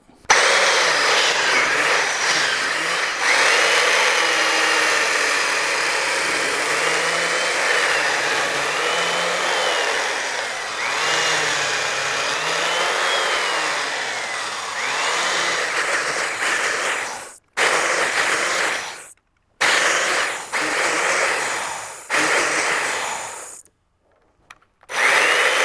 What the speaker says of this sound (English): Now that we've finished roughing out the mortise with the chain mortiser